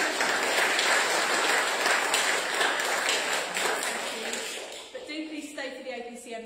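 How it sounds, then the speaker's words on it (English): Applause from a church congregation at a parish Eucharist, a full busy clatter of many hands that fades away in the last seconds as a voice begins to speak. "let's give them a round of applause now"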